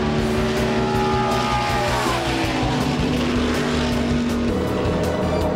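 NASCAR stock cars roaring around an oval track during practice laps, loud continuous engine drone with rising and falling pitch as cars pass, no talk.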